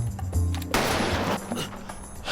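A single loud gunshot bursts out in a tense scene from Squid Game, fired at a masked boss and hitting his shoulder, followed by a dense, ringing wash of noise over low rumbling backdrop with no talk.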